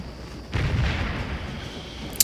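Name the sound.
artillery firing in video game Scourge of War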